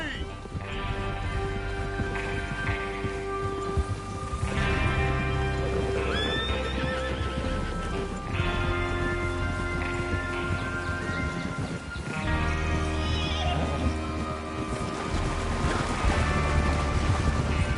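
Horses whinny and snort repeatedly over steady clip-clopping hooves, with game music and effects underneath, in several loud bursts.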